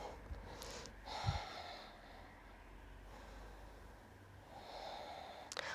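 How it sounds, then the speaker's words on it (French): Slow, soft breaths come and go during a seated morning yoga practice, a quiet close inhale and exhale with a faint nasal snort, heard alone over low room hiss. "Je vais prendre quelques instants pour respirer."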